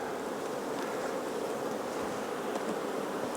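Honey bees swarm-buzz around an open hive being worked, a continuous close droning hum of many wings with no pauses and no voices.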